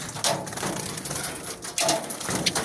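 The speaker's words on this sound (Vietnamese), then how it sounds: "Chim này là loại chim gì? Pháp à? Bồ câu Pháp." French pigeon cooing close by in a farmyard, two soft throaty coos in a short span over a breezy, rustling background.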